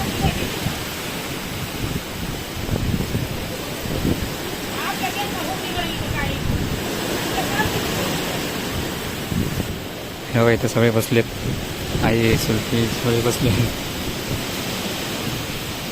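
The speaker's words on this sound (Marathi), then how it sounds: "एकदम वारा समते पाऊस खतरनाक" A sudden village rainstorm driven by strong wind roars steadily throughout, a dense wash of noise beneath people talking close by.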